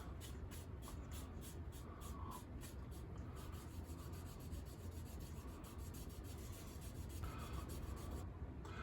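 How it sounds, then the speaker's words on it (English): Light back-and-forth sanding of a bare metal foil emblem using Trizact 5000 paper gives a steady, soft rasping rub that keeps going with a faint rhythmic texture, close and continuous, with no talking. "Just lightly sanding back and forth."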